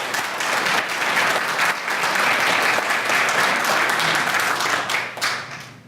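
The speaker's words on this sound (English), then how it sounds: "So a round of applause." Banquet audience applauding an award honoree at an awards dinner, a sustained wash of many hands clapping that holds steady and then tapers off near the end.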